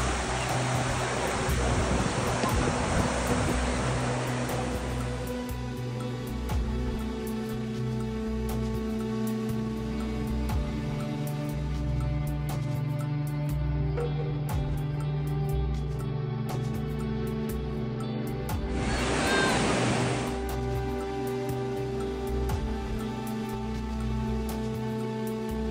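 Ocean waves wash onto the shore, rushing loudly for the first few seconds and surging again briefly near the end, over a steady low hum.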